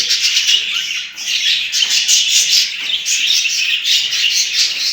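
A flock of home-bred budgerigars chirping and squawking continuously and close by while they eat boiled cracked corn, a dense, busy chatter.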